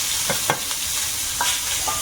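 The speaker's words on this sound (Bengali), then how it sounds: "তেজপাতা দিলাম এবার পেঁয়াজ কুচি" Chopped onion, bay leaf and five-spice seeds fry in a pan of oil while cooking a river fish dish, giving a steady loud sizzle broken by a few sharp clinks of a stirring spoon.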